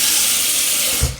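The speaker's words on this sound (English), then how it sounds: "I put my water in right away." Water is poured into a pot of pre-washed brown rice, giving a steady close rushing splash that ends with a low thump near the end.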